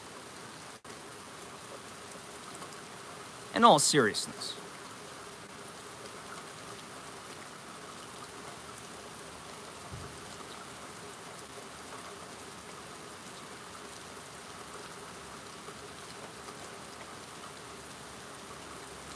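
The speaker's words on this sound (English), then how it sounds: "slight rain and I'm surrounded by tall oak trees" Light rain patters steadily among tall oak trees, a soft continuous hiss of drops on surfaces, briefly interrupted by a short spoken remark early on.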